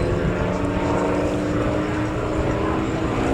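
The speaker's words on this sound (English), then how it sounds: "the Sea Fury was the last fighter made in this country to be propelled across the sky by a propeller and not by a jet engine" A Hawker Sea Fury propeller fighter flies past at an airshow, its piston engine giving a steady, loud, continuous roar throughout with no talk.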